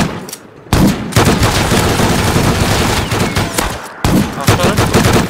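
Loud bursts of video game gunfire, a rapid automatic volley sustained for about three seconds after a short gap, then another burst, close and dominant.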